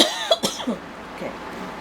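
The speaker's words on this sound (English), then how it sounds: "So I have a cough" A few short coughs and throat-clearing sounds, close and fairly soft, with brief pauses between them.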